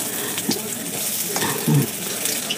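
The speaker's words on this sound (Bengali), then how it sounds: "দেখুন কি সুন্দর ভাজা হয়ে গেছে" Beguni, eggplant slices in a gram-flour and rice-flour batter, fry in a small amount of oil, giving a loud continuous sizzle and crackle up close with a couple of brief scraping knocks.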